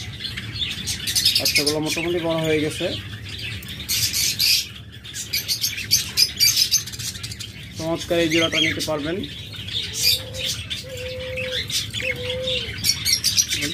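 Budgerigars chirp and squawk in busy bursts close by, with chicks in the cage, while someone talks over them in between calls.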